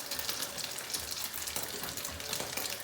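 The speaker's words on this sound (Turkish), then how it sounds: "Ben bu şekilde çöreklerimi kızartayım." Soft, even sizzling and crackling of çörek pastries frying in oil in a pan, a quiet continuous bubbling with small pops and no talking.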